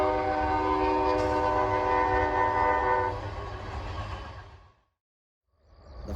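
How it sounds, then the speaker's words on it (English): A Richmond, Fredericksburg, and Potomac Railroad train passing near the old Chancellorsville battlefield sounds a steady, loud horn over rumbling wheels for about three seconds. The horn cuts off, and the rumble fades briefly to silence before rising again. "I'm not going to try to yell over this train as it gets a little closer"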